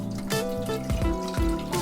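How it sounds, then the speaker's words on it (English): Water pours and trickles into a small teapot, a short run of splashing filling sounds with a few drips, close and fairly loud, during a kitchen tea-making routine with fresh ginger and honey nearby. "Put some water in my little teapot here."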